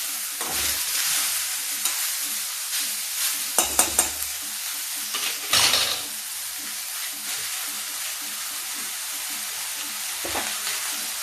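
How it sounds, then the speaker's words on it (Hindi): Spinach greens hit a hot kadhai and sizzle steadily and loudly up close, with bursts of crackling and occasional spoon scrapes and stirring clatter over a continuous frying hiss. "अब इसमें हम ये साग डाल देंगे। एक साथ नहीं डालते हैं, ये अभी इसमें थोड़ा सा कढ़ाई में दब जाएगा"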